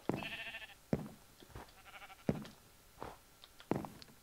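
A sheep in the video game Minecraft bleats in a short wavering call, close and clear, followed by several sharp thuds and footstep-like knocks at uneven intervals.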